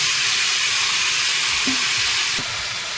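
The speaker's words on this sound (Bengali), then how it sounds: "এবারে এই তেলের মধ্যে কচুটা দিয়ে দেবো" Pieces of taro go into hot oil already used for frying fish, giving a loud, steady sizzling hiss that fills the whole stretch with only slight changes in level.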